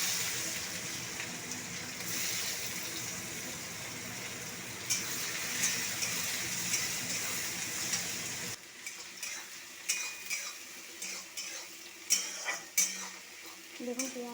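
Sliced onions hit hot oil with whole garam masala spices, a dried red chilli and bay leaves for a chicken curry, giving a steady loud sizzle that later thins into quieter crackling with occasional stirring and utensil clinks.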